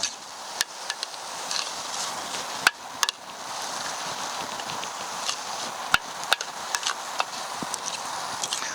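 Ginger and other ingredients ground on an ammi, a traditional stone grinder, with a continuous rough scraping rub and scattered sharp knocks of stone on stone, close and fairly quiet, no speech.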